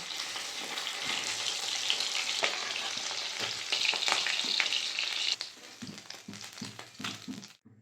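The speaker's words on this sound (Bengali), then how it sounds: "মাছগুলো ভালো করে ভেজে নিচ্ছি তুলে নেব।" Khoira fish frying in hot oil in a pan, a steady dense sizzle with crackles and occasional stirring clinks, close and fairly loud throughout, easing slightly near the end before a brief drop-out.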